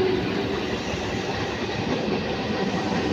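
A local train on the Howrah chord line passes the level crossing at gate 72 near Saktigarh, giving a loud, steady wheel-and-carriage rumble with faint clickety-clack that fills the whole stretch without a break.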